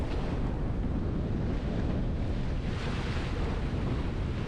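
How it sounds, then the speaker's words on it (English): Gusty, blustery wind roars steadily across the microphone while coastal sailing at sea, a loud continuous rush mixed with water and hull noise, with no talk. "really quite a gusty, blustery wind"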